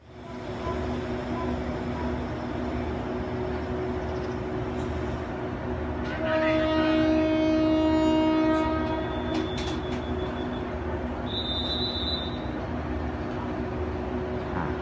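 Special express train 31 pulling out of Bang Sue station in Bangkok, a steady loud rumble of rolling carriages with a long sustained horn tone midway and a brief higher whistle later, while someone talks.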